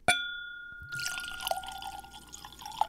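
A glass clinks with a ringing tone, then whiskey pours into it in a soft, continuous trickle with small splashes, quiet and close.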